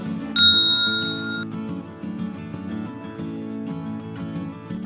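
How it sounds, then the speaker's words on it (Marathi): A bright subscribe-bell notification ding rings once near the start and rings out for about a second over a soft, steady musical backing. "सबस्क्राईब करा आणि ही घंटी वाजवा"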